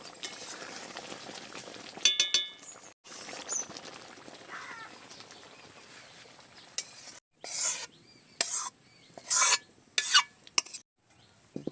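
Chickpea dal with ghee and garam masala is stirred in a pot, with soft scraping and bubbling broken by sharp bursts of spoon clatter and pauses of near silence.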